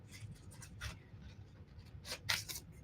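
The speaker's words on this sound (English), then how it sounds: "I'm just coming in here with my scissors and I'm getting as close" Scissors snip through paper while cutting out a mixed media Christmas caroler figure, making faint, close, dry crisp snips and scratchy rustles in irregular bursts.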